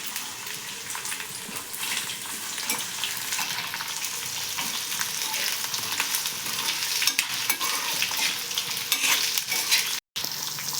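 Bitter gourd pieces fry in hot oil with curry leaves, giving a continuous close, bright sizzle with stirring scrapes throughout and a brief cut near the end.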